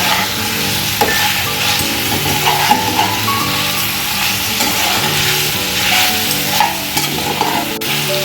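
Ginger garlic paste frying in a pan, sizzling steadily up close, with a spoon scraping and stirring at irregular intervals throughout.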